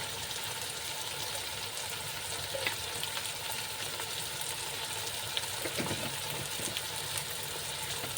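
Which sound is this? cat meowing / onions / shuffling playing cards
onions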